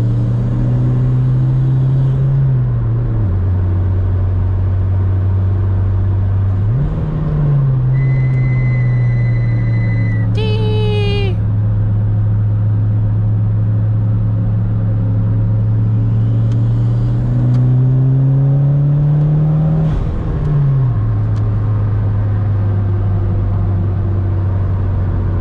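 An onboard car engine drones close and loud, its pitch climbing and dropping through several gear changes as it accelerates, with a brief whistling tone partway through and no voices.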